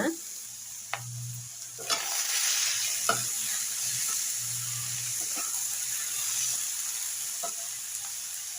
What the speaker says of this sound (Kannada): ಇವಾಗ ಇದಕ್ಕೆ ಸೊಪ್ಪು ಹಾಕ್ಕೊಳ್ಳೋಣ ಚೆನ್ನಾಗಿ ಬೆಂದಿದೆ ಸೊಪ್ಪು ಹಾಕ್ಬಿಟ್ಟು ಇವಾಗ ಮಿಕ್ಸ್ ಮಾಡೋಣ